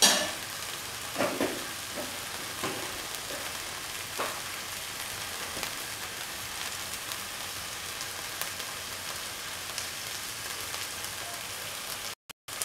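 Tomatoes being squashed and stirred with garam masala in a pan for spicy okra masala rice, giving soft scraping stir strokes and a steady low sizzle with a few sharper clinks, no talking.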